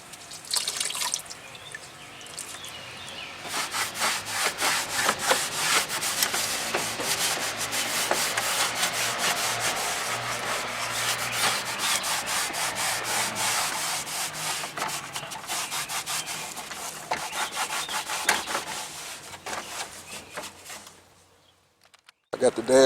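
Continuous rubbing and wiping of a sanded car dashboard with water, steady scrubbing strokes close by with faint watery sounds, running about twenty seconds before stopping.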